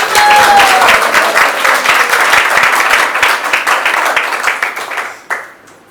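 An audience claps together in a warm, dense burst of applause greeting a guest at a morning Bhagavatam discourse in Vrindavan, staying loud and steady before fading out near the end.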